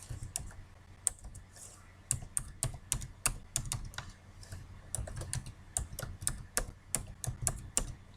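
A computer keyboard clatters with quick bursts of close, crisp keystrokes as an email address is typed into an account login form, arriving in uneven clusters with brief pauses between them and no talk.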